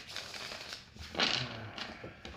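Tarot cards shuffled by hand in short, soft riffling bursts, with a louder flurry midway through, close and quiet.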